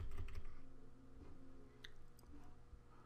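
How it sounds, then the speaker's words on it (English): Arrow keys on a computer keyboard are tapped softly during design work in Adobe Illustrator, with a few faint, scattered clicks over a low room hum and no talking. "And I'm using the arrow key here on my keyboard."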